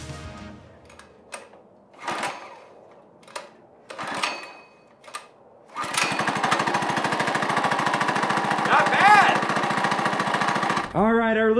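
A Coleman mini bike's small gas engine starts after a few short bursts, then runs steadily and loudly with a rapid, buzzing idle for several seconds before cutting off abruptly.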